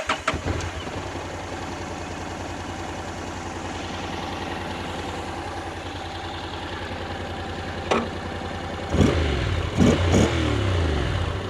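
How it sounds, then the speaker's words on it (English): A Honda NC750 motorcycle with a DCT gearbox starts with a brief crank and catches into a steady, close idle. A couple of short engine blips follow near the end. "Start engine."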